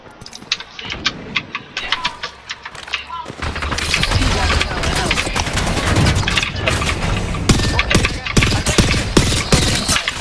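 Rapid gunfire in a video game battle royale firefight: sporadic shots at first, then dense, continuous bursts and booms filling the clip, with game voice callouts over the shooting.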